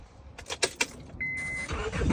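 A car started with the key: a few soft clicks and a brief steady tone, then the engine catches and settles into a low running hum, all fairly quiet and close.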